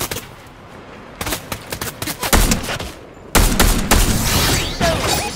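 Bursts of automatic rifle fire in a Fortnite match, several rapid volleys of shots cracking close and loud, with a sharper, denser barrage near the end.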